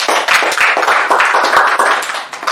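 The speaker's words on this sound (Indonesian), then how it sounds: "Tepuk tangan untuk Dedi" Students in a classroom clap for a classmate who has just finished presenting on mitosis, a small group with distinct, uneven claps close by, brief and lively.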